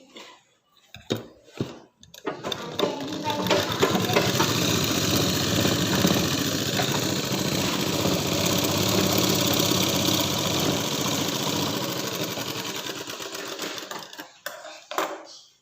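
A sewing machine stitches piping onto a garment in one continuous whirring run lasting about ten seconds, with a few short clicks and bursts before and after the steady stitching drone.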